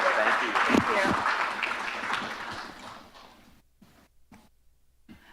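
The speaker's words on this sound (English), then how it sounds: "let's give the Congressman a round of applause" An audience at a policy think-tank event applauds a Congressman, with dense clapping that holds for about three seconds and then thins out and fades to near silence.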